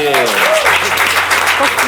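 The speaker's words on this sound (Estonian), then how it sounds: "Tere aplausi!" Studio audience at an Estonian comedy panel show breaks into loud, sustained applause, a dense wash of clapping that fills the whole moment.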